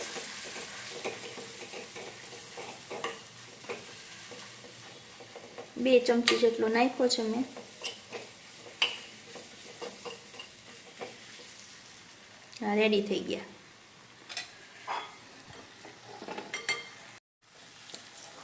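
A chickpea flour mixture with red chillies is stirred in a frying pan, with soft sizzling and intermittent scraping and clinks of a spoon against the pan. Someone speaks briefly at times.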